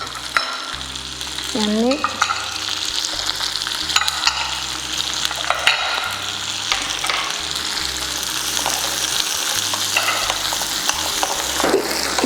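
Onions fry in a pan for a home-style mutton biryani, sizzling loudly and steadily with repeated scraping stirs and a brief spoken word early on.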